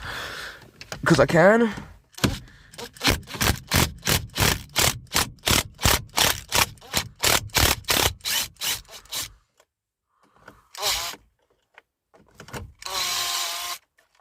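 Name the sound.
impact driver removing Torx 30 bolts from steering wheel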